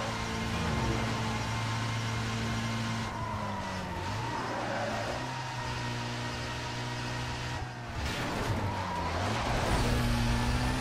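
A BMW M3 GTR racing in Need for Speed Most Wanted, its engine holding a steady loud drone that rises and falls through gear changes, with a brief tyre skid partway through and no talking.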